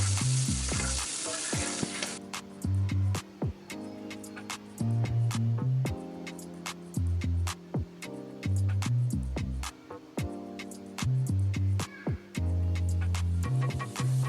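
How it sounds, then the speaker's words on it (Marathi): Finely chopped onion with cumin frying in oil in a pan: a bright hiss at the start, then a softer sizzle under steady background music. "आता आपण या कांद्याला छान असा गुलाबी रंग येईपर्यंत तळून घेणार आहोत"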